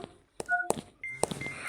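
A phone rings with electronic beeps and short dial-like tones, sounding in a few sharp bursts separated by brief gaps.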